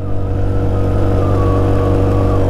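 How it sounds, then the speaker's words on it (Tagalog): A vehicle engine strains on the uphill Capas-Botolan mountain road, giving a loud, steady, continuous drone with a slowly rising tone throughout. "Hirap na hirap yung makina."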